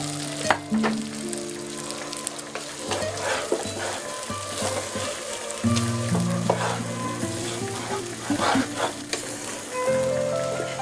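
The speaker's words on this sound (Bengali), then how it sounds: "আর এই পর্যায়ে হচ্ছে আমি সবজিগুলো যেগুলো ভেজে রেখেছিলাম সেটা দিয়ে দিচ্ছি।" Fried vegetables tipped into bachelor-style thin khichuri rice, sizzling steadily in the pot while being stirred, with loud, close frying noise and background music running throughout.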